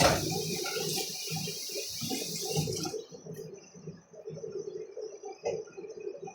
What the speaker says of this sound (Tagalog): Hugasan lang natin ng mabuti